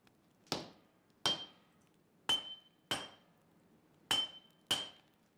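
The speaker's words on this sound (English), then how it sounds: "Heat from the forge and constant hammering flatten the pieces into the building blocks of the new weapon under Gassan's watchful and highly trained e" Hammer blows on hot steel at a forge while a katana is being made: six sharp metallic clinks with ringing tails, spaced unevenly a second or so apart, loud and close with no talk.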